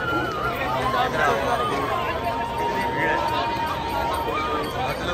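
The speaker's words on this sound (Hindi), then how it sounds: "भीड़ है, लोग भारी होली खेल रहे" Dense crowd noise from people celebrating Holi at Prem Mandir in Vrindavan, a steady babble of many voices and movement heard close, with shouts rising out of the general hubbub.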